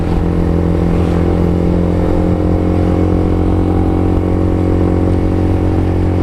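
A 150cc motorcycle engine hums steadily at close range, a constant droning rumble with no pauses, as if heard while riding.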